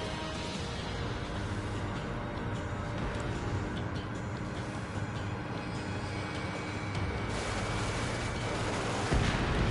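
A missile launches and detonates in the Ace Combat flight combat game, a dense, continuous rumbling roar that holds steady with no clear separate blast.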